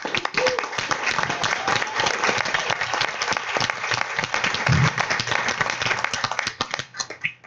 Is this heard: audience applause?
yes